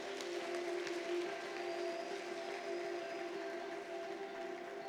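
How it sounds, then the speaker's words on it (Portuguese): Congregation clapping in a church service, a steady wash of applause held at an even level throughout, with a sustained organ-like tone underneath. "Vamos dar uma salva de palmas para eles?"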